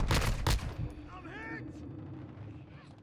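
Gunfire in the 2022 game Call of Duty: Modern Warfare II, with a burst of loud, close shots in the opening half-second, then a quieter mix of distant game effects and a short whooshing tone.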